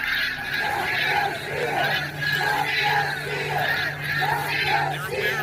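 A crowd of rioters yells and chants outside the east side of the Capitol, a massed roar of many voices at a distance, swelling and dipping in waves without pause.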